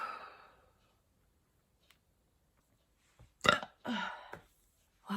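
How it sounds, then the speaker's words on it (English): Several loud, close burps from a person dealing with constant belching as a long Covid symptom: one trailing off at the start, then a sharp cluster of three or four burps after a quiet gap. "It is burp day."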